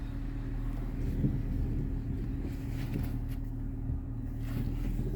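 A 2010 Ford Fusion with a freshly swapped powertrain creeps forward under its own power, a steady low engine drone and rumble holding constant throughout, with no talk.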